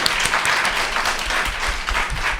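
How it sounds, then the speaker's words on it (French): A studio audience claps for guests arriving on a French talk show about artificial intelligence and work, a dense, steady round of applause that holds at full strength throughout, with a faint voice underneath. "On peut applaudir nos invités."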